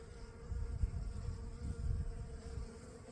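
Honeybees buzzing at a hive entrance on a Mediterranean coast morning, returning with pollen; a low, soft, fluctuating hum of many insects close by, alone without talk.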